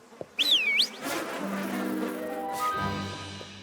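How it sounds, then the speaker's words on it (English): Cartoon bees buzzing in an animated pony series, a rising-and-falling whine followed by a steady drone that hums on under the scene. "I'm gonna need my bees back."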